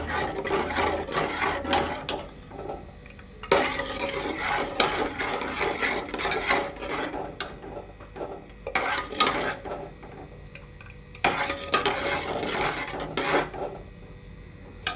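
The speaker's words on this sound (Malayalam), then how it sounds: "അത് ഒഴിച്ചു കൊടുത്തിട്ടുണ്ട് വീണ്ടും ഇളക്കിയെടുക്കുക" Ramadan tharikanji stirred in a metal pot, repeated bursts of scraping and clinking from a spoon against the pot, separated by brief pauses, close by.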